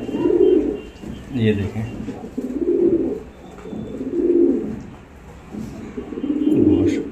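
Rampuri high-flyer pigeons coo nearby in slow, repeated throaty rolls, about five swelling phrases, while someone speaks briefly over them.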